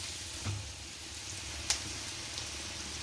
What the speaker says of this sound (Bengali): কিশমিশ দেওয়া হচ্ছে